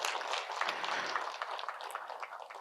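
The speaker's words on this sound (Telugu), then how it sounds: "గట్టిగా చప్పట్లు కొడదాం నందా సార్కి" A meeting audience claps for its first managing director, a dense, fairly soft patter of many hands that holds steady throughout with no voices over it.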